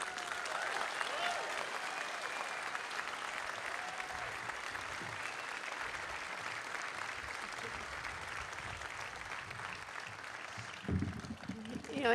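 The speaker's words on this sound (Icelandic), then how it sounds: "Góðir gestir, má ég biðja ykkur að klappa vel fyrir Auði Eir Vilhjálmsdóttur." An outdoor crowd at a public gathering on Austurvöllur square breaks into sustained applause, steady and dense for about eleven seconds, with a burst of nearby voices at the end.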